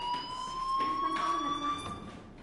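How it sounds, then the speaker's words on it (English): A fire alarm in the video game Life Is Strange rings as a steady, shrill electronic tone with bright harmonics, sounding close and continuous across the whole moment. "do you hear that fire alarm? That means you should be outside."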